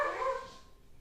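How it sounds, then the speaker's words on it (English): A dog gives a single short, fairly faint bark indoors that fades quickly into quiet room noise. "that's my dog"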